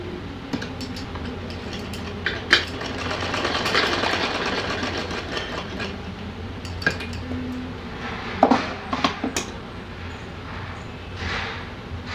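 A sewing machine runs steadily while stitching a small dress for a Laddu Gopal idol, a continuous whirring hum with scattered sharp clicks and light clinks, heard up close with no talking.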